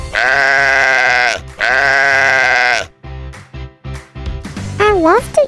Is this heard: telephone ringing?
no